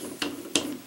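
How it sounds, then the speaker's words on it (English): Two short, faint metallic clicks come from a screwdriver working the screws loose on an opened computer hard drive, spaced about a third of a second apart in a quiet room. "let's just go ahead and unscrew these"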